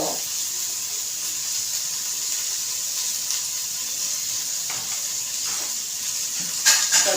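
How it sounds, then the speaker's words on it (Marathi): A steady high hiss of hot oil with cumin seeds spluttering, faint crackles and a few sharp pops near the end, close by and without talk. "जिरं तडतडून द्यायचं"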